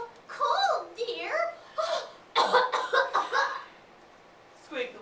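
A performer voicing the wolf in an acted-out Little Red Riding Hood imitates a cough, a few short throaty bursts mixed in with theatrical speech from more than one voice.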